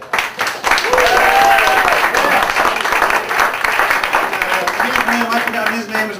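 A comedy club audience applauding a comedian as he takes the stage, a dense burst of clapping and crowd noise, fairly loud, with a voice speaking over it toward the end.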